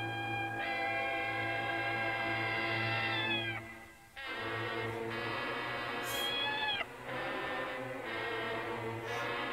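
Cat meowing in the 1967 horror film Spider Baby: a long drawn-out meow followed by further yowls over a steady low hum and musical score, fairly loud and close.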